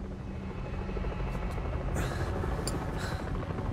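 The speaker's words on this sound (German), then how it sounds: "Und der nächste Hubschrauber." Helicopter in the Metal Gear Solid V game drawing closer, a steady low rotor drone with a broad whooshing rise partway through, fairly loud and mixed with other game noise.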